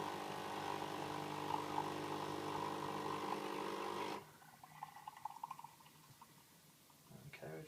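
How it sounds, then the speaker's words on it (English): A Nespresso machine brewing a shot of espresso whirs loudly and steadily for about four seconds, then cuts off, leaving a quiet tail with faint drips and small clicks. "I'm going to brew a shot of espresso."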